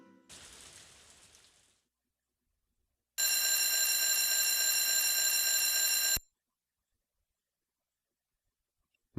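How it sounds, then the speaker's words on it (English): A game alarm clock in Harvest Moon: A Wonderful Life rings for about three seconds as a bright, sustained electronic bell tone, preceded by a short soft sound and surrounded by silence. "Now, as you see, we get awoken by an alarm."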